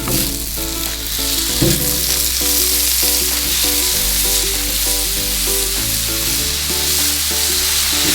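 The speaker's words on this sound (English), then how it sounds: "Let's go ahead and put those straight down on the griddle." Salmon burger patties bound with a little potato flakes sizzle loudly on a Blackstone griddle, a strong, continuous crackling hiss with a faint tonal hum underneath, no talk.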